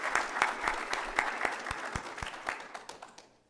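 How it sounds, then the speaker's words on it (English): A round of applause for students at a Board of Education meeting's student recognition program, with a crowd clapping together in a hall, individual claps standing out before the sound tapers off toward the end. "I'd like to give you guys a round of applause."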